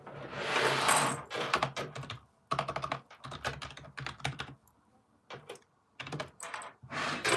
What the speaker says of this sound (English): Keyboard out.